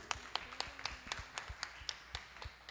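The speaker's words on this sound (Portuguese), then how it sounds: "Vamos aplaudir o Senhor Jesus." A church congregation claps in a steady, quick rhythm at a Friday healing and deliverance service. The claps are faint and distant, with no voices over them.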